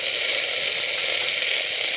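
Ground tomato sautéing in a pan for a balloon vine herbal rasam, giving a steady, soft hissing sizzle close by that stays even throughout, with no talking.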